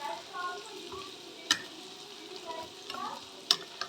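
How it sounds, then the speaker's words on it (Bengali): Cooked eggplant being mashed with a ladle, soft squelching strokes with a couple of sharp metallic clinks against the pan, quiet and close. "হাতা দিয়ে ম্যাশ করে নেব"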